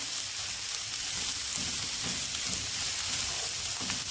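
Capsicum and cabbage cooking in a hot pan give a soft, continuous sizzle with faint rustling stirs throughout, steady and fairly quiet, no talking.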